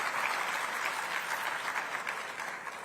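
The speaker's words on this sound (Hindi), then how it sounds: "यहाँ ऐसी ताली सुनी इतने दिनों बाद कि मजा आ गया" A conclave crowd claps steadily, dense even applause holding at full strength throughout.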